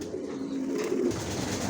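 Racer pigeons coo inside a loft, with low, rolling calls repeating over a constant bed of soft ambient noise, near and fairly steady throughout.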